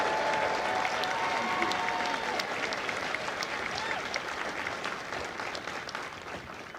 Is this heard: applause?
yes